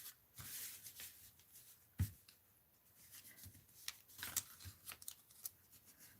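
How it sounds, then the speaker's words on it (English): Scissors snip through paper for a mixed-media art journal in a quiet, close series of irregular crisp cuts and rustles, with a sharper snip or thump partway through. "Mary's going to cut it"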